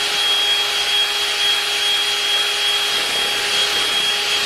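Mapei Ultracolor Plus FA grout being mixed, likely with a power mixer, giving a steady, loud, continuous whirring drone with constant tonal hum throughout and no talk.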